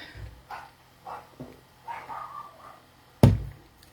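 A dog gives a few faint, scattered yips and whimpers in a quiet room, followed by one sharp, louder bark near the end.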